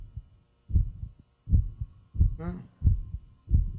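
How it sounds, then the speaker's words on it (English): A heartbeat effect in the horror game The Backrooms thuds in a steady rhythm of deep double beats, loud and close, with a brief spoken word over it. "Where's my heartbeat?"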